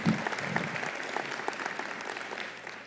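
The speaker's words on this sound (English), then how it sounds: "Give him a round of applause." An audience at a city's annual civic address claps steadily for an honoree, a dense even patter of many hands, fairly distant and quiet, holding at a constant level without voices on top.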